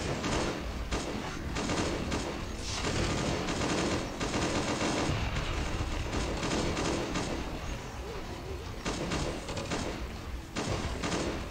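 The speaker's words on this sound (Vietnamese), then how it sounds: "Súng máy phóng lựu thật là đỉnh." A grenade machine gun fires in the survival game Last Day on Earth, producing dense, rapid bursts of loud gunfire that run almost without pause, close and overlapping.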